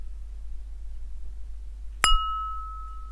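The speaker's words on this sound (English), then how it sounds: "My next sound is of some bowls." A single bowl is struck once, giving a sharp clear ding that rings on as a pure sustained tone over near silence.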